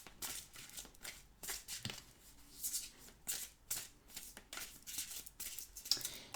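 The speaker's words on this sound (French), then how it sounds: "on va se prendre immédiatement une carte du message des pierres pour avoir notre complément d'information" Oracle cards being shuffled by hand in a series of quick riffling bursts, each a few papery flutters, separated by short pauses, close and fairly quiet.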